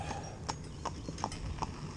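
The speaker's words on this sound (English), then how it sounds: "So it goes nice free moving little pony." A cob pony's hooves clip-clop steadily on a hard road while it pulls a driving cart on a morning outing, the close, even beats set against a low rolling rumble of wheels.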